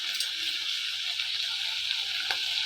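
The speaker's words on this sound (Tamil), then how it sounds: "இந்த எண்ணெயிலேயே இந்த கத்திரிக்காய் நல்லா வதக்கணும்" Cut eggplant sautéing in oil with salt for a tamarind curry gives a quiet, continuous close sizzle and hiss, with a small stir sound near the end.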